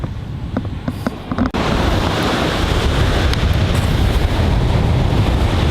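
Beach surf rolling in as a loud, continuous wash of waves, heavily buffeted by wind noise on the microphone, with a few faint knocks just before the roar settles in.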